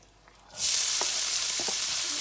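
Leftover rice hits hot oil and is stirred and fried, bursting into a loud, steady sizzle after a brief quiet moment, with faint scraping knocks underneath and no talk.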